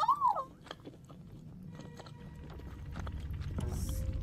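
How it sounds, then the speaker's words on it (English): A game character chewing lasagna in the horror game Fears to Fathom: faint, close mouth and crunching sounds over a low background hum, with a short whistle-like tone at the start. "The sound of me chewing is not worth it."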